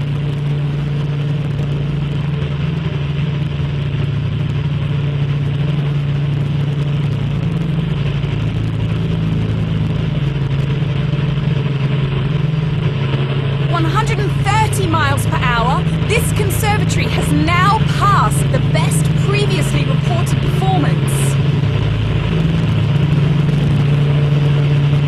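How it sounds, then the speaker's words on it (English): A powerful engine drives a steady, loud roar of artificial 90 mph wind against a conservatory roof system under test, a constant low drone throughout while a voice speaks over it in the second half. "Right now, the engine is creating wind speeds of 90 miles an hour."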